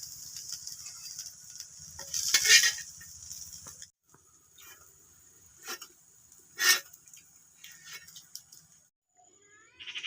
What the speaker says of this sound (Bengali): বড়াগুলা কিন্তু বন্ধুরা ভাজতে বেশি একটা টাইমও যাচ্ছে না